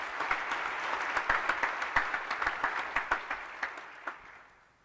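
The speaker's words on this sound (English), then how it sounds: "let's give our academics a round of applause" Audience at a university graduation ceremony breaks into sustained applause, a dense wash of clapping with sharper individual claps standing out, steady for about four seconds before fading away.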